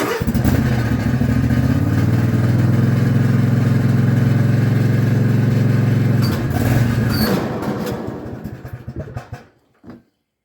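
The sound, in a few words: Husqvarna 254 ZeroTurn mower engine running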